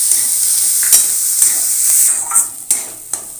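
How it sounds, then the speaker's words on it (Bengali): Soaked pigeon pea and other lentils fry over high flame for dal fry, a loud continuous sizzle broken by several sharp scraping stirs of a spoon against the pan. "এগুলো আমি এবার ভালো করে ভেজে নেব।"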